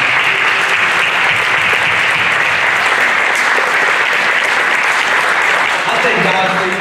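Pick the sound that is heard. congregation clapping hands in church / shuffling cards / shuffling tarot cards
congregation clapping hands in church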